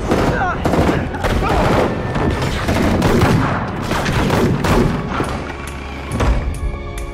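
Rapid bursts of gunfire and booming blasts ring out in a Marvel war video game, loud and dense with overlapping shots and thuds, while excited voices shout over the action.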